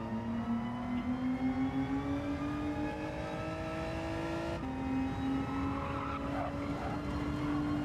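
A race car in Gran Turismo 7 brakes late and hard, its engine note dropping in steady tones while tires squeal sharply toward the end, loud and continuous with no talking.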